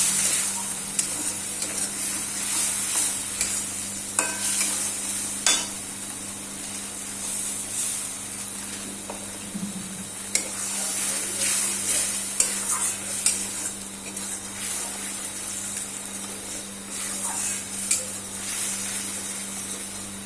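Chicken kasha with a splash of water stirred and fried in a pan: a steady sizzle and hiss throughout, broken by frequent spoon scrapes and clicks, with a low constant hum underneath and no talking.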